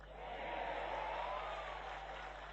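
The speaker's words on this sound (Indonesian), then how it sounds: "Oh, tepuk tangannya bukan main lagi." An audience at a sermon by Ustadz Abdul Somad breaks into a sustained wash of clapping, a dense, even roar of many hands that holds steady and fairly distant throughout.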